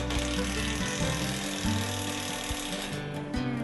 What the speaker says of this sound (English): then tighten all nuts.